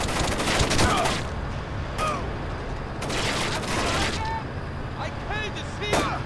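Gunfire bursts in Splinter Cell: Chaos Theory, scattered volleys of shots recurring across the clip at moderate loudness, mixed with game effects beneath a player's excited talk.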